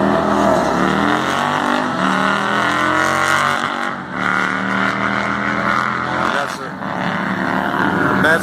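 A drag racing car roars down the strip at a dragway, a loud sustained engine howl with shifting harmonics and brief dips, nearby and dominant throughout.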